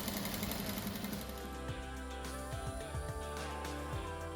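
A sewing machine stitches around the edge of a striped rug, a close, rapid mechanical whir with quick rhythmic needle taps that speeds up and slows down.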